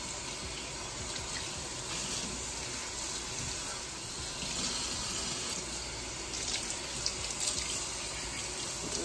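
Water running steadily from a tap over a lace frontal wig, rinsing out conditioner, a continuous even splashing hiss with small bursts of gurgling near the end.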